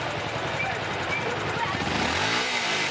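A motorcycle engine revs and climbs in pitch, the rising whine of acceleration under a continuous rumble.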